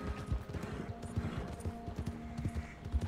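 A horse in the video game Red Dead Online trots along, its hooves clopping in a quick, regular rhythm over a soft tonal game background hum.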